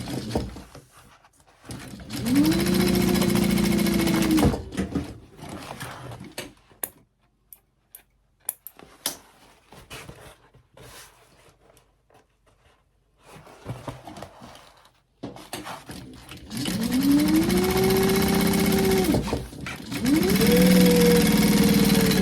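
A sewing machine stitches a woven label onto the side seam of a fabric gift bag, running in two steady motorized bursts separated by a quiet pause with faint handling noise.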